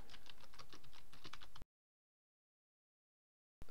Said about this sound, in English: And I'll just type in my first post.